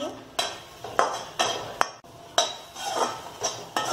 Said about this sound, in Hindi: थोड़ा सा इसे हम और भूनेंगे